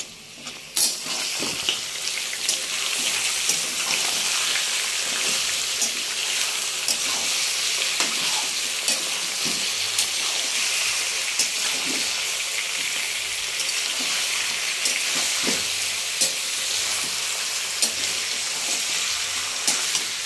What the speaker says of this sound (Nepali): हाम्रो प्याज त्यतिको भइसकेपछि अब यसमा हामी मासु राख्छौँ